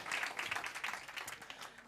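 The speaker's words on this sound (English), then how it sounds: "Can we please give Finn a round of applause?" Audience clapping at a theatre youth event, a short burst of many hands applauding at moderate distance, fairly quiet and even, with no voices over it.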